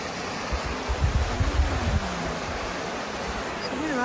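The Waratah River flows below a waterfall, a steady broadband rush of water heard alone, with a few louder low rumbles early on.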